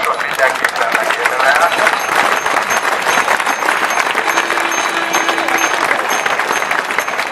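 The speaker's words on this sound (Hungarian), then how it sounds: "egy tapsot mindenképpen megérdemel" A crowd at a Critical Mass bicycle gathering in Debrecen breaks into loud, sustained clapping and cheering outdoors, with voices and a brief tone mixed into the noise.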